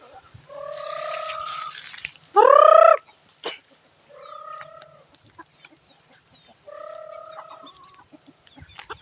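Palawan native chickens on a farm, with clucking and calling birds in several bursts and one loud, close, harmonic squawk or gobble near the middle, with no talk.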